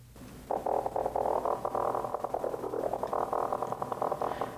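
A gritty FM synth lead from the u-he Diva software synthesizer, with one oscillator modulating another at a very high setting: a loud, rough, buzzing, warbling tone that sustains for several seconds on its own.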